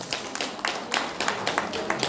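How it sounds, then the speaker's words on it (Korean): Audience applause at an invited lecture by a National Assembly member in Korea, welcoming an arriving guest: a dense run of fairly soft, steady hand claps lasting a couple of seconds, with no speech over it. "박수로 맞이해 주시겠습니다."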